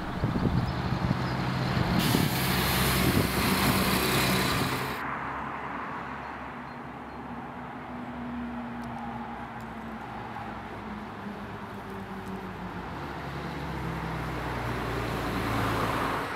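A Lucerne city bus on line 25 climbs uphill, its engine droning steadily from inside the vehicle with a louder rushing stretch early on, then a lower, even hum that slowly builds again; no speech.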